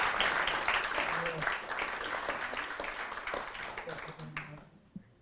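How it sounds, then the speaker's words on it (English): Audience applause fills a public seminar hall, a dense wash of clapping that carries on steadily and then fades toward the end, leaving near silence with a last stray clap. "And one more round of applause,"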